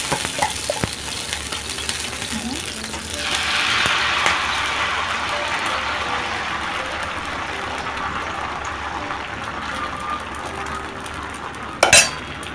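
Amboli batter made from leftover idli and dosa batter hisses and sizzles as it spreads across a hot oiled iron griddle, a broad steady frying noise with a brief clatter near the end.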